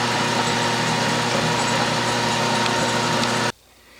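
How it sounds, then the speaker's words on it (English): A stubby number 30 drill bit cuts into hard steel, giving a loud, steady whirring grind that holds constant for about three and a half seconds and then stops abruptly, leaving a faint hum. "This is a stubby number 30 drill bit."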